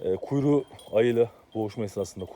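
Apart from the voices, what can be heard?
None of the usual background noises is heard.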